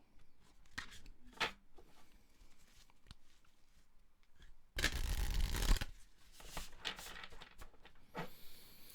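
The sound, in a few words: shuffling tarot cards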